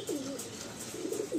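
A Madrasi pigeon in a loft gives two low rolling coos, one near the start and another near the end, close by and alone.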